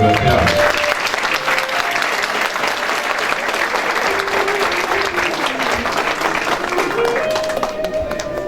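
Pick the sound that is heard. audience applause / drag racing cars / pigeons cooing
audience applause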